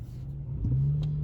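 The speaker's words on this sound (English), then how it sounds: "It's a tricycle car, or as they say, a car with 3 wheels." A three-wheeled tricycle car engine hums steadily nearby with a low drone that rises slightly midway, as if revving gently, with no talking.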